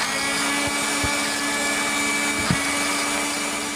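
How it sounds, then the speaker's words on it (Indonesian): An electric blender grinds rendang sapi spice paste with cumin, a steady loud motor whir running continuously with no talk over it. "Sekarang aku mau blender dulu bumbunya sampai halus"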